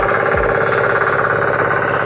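A Firman FTI 2010DE plough tractor engine runs steadily nearby, a loud continuous mechanical drone with a rapid even throb, alone without speech.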